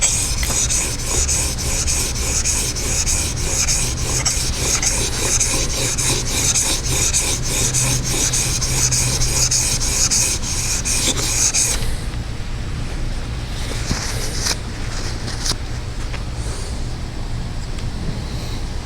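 A steel plane iron rubbed back and forth across a sharpening stone, a steady close rasping scrape that runs continuously for about twelve seconds, then eases into quieter, intermittent grinding strokes.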